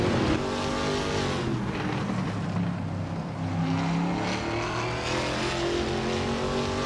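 Racing cars in a WTC race, including a 2006 Seat Toledo, fill the sound with a continuous loud engine roar and shifting revving tones, steady throughout with no pauses.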